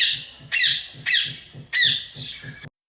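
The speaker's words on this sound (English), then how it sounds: "Parrot says." Three harsh, shrill parrot squawks in succession, loud and close, each a raspy burst separated by short pauses, with a faint low rhythmic hum underneath and no talking.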